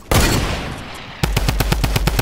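Video game gunfire: a dense burst of automatic fire fades out, then a sniper rifle fires a rapid string of about eight sharp, close, evenly spaced shots, loud and with no talk over them.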